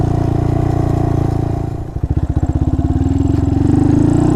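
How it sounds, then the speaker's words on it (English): Honda Monkey motorcycle fitted with a Termignoni exhaust, heard from the helmet while riding: a steady loud engine drone that dips briefly, then pulses back up as the bike accelerates through the gears, with no talk. "give you like an everyday sound example of how this exhaust sounds in the helmet"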